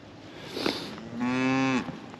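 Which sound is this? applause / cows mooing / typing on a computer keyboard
cows mooing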